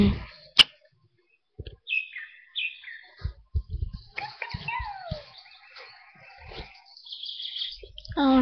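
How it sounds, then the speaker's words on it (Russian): Morning birdsong in a forest, bright short chirps and trills scattered through the clip between intermittent knocks and rustles close by. "А уже птички поют."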